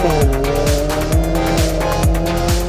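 A classic rally car engine roars and revs up and down through repeated gear changes, loud and close, with tires scrabbling on a loose forest stage surface during a classic rally.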